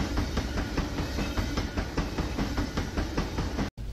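Rail trucks of a train in Run8 Train Simulator, a steady rhythmic clickety-clack of wheels over rail joints with a low rumbling drone underneath, close and continuous until a sudden brief cut near the end.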